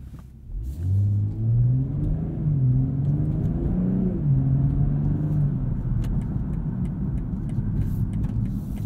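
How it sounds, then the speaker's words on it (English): A 2022 BMW M240i xDrive Coupe cruises at night, its engine a close, steady droning hum that swells and dips with gear changes over constant road and tyre rumble, with no talking. "that's going to be a night drive on the new M240i xDrive Coupe"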